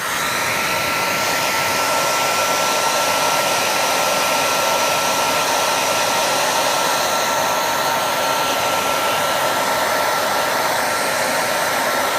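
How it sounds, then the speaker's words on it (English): A hair dryer on its hot, high setting blows steadily over a silicone mould, a loud continuous whooshing roar with a faint whine, unbroken for the whole stretch. "I'm going to go in now with a hairdryer"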